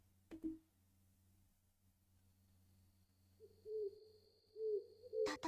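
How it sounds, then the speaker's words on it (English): In the Touhou LostWord video game, a soft, distant owl hoot is heard once early, then a run of three or four mellow hoots follows over quiet background ambience. "Owl noises are my favorite background music for battle"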